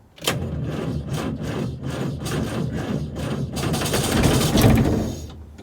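A Land Rover Series 2A with a 2.25-litre diesel engine is cranked from cold in winter, its starter churning in a rapid rhythmic chug close by, growing rougher and louder toward the end without catching.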